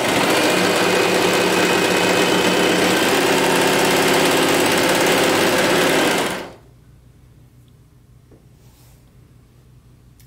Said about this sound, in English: we're going to take this to the serger and finish this off together